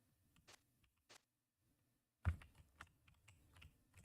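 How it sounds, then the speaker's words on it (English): Buttons on a keyboard used for switching color in Rivals of Aether 2 click in a few sparse taps, then a quicker cluster of sharper keypresses, close and alone. "that's the buttons on this keyboard for switching color"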